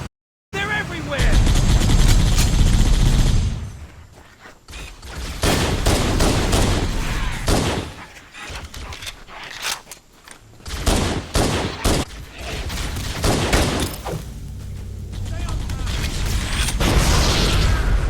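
Dense video game gunfire from Halo, with bursts of rapid fire and booming blasts that come and go across a loud firefight, separated by brief lulls, with voices shouting over the shooting.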